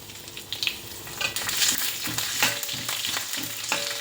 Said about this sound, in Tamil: பொரிஞ்சு செவந்து வந்ததும் இந்த பச்சை மிளகாயை போட்டுக்கோங்க. பச்சை மிளகாயும் வரமிளகாயும்